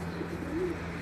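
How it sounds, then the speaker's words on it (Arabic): A soft, low pigeon coo sounds briefly against a steady background hum, faint and somewhat distant. "هاي الطيور"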